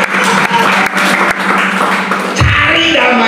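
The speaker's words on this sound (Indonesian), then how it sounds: "Ya, tepuk tangan." Congregation clapping at a worship service held in a Jakarta apartment, a dense, fairly loud wash of applause running about two seconds before it breaks off into quieter room sound.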